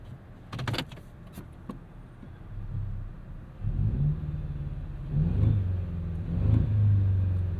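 A 2024 Toyota Tacoma TRD Pro's four-cylinder engine revving at a light, heard from inside the cab: a few low, swelling rumbles that climb and fall back, after some clicks and a brief whir of cabin mechanisms.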